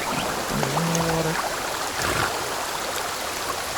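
Steady rushing water flows continuously in the Sons of the Forest video game, a broad even wash throughout with a brief low tonal sound near the start.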